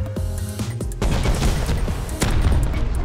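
A tank blows up in the video game Rust: a sudden loud blast cuts in, followed by dense, sustained rumbling and crackling debris, with further heavy bursts near the end.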